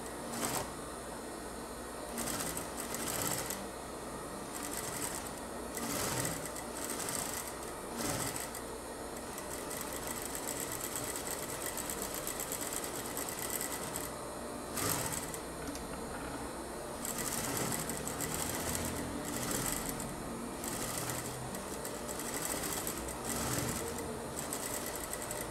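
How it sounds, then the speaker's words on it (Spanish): Sewing machine stitching around the edge of a 3D fabric face mask, a steady close mechanical whirr in repeated bursts with short pauses between runs, no talk. "Ahora vamos a coser por todo el bordito"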